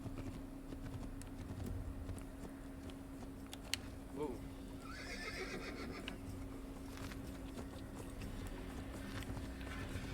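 A horse in the video game Assassin's Creed whinnies briefly over faint galloping hoofbeats and a steady low background hum, all quiet and somewhat distant.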